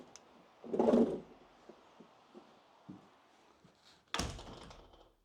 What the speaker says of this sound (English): if I close the door, the main door, I will show you